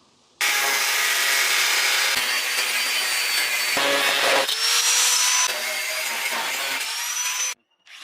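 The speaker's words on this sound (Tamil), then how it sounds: "இப்போ நம்ம மார்க் பண்ண அந்த பார்ட்டை மட்டும் அந்த கட்டிங் வீல் வந்து அப்படியே கட் பண்ணி தனியாக எடுத்துடலாம்." A cutting wheel slices through a marked metal part, a loud continuous grinding whine with shifting pitch as the blade bites, lasting several seconds before stopping abruptly.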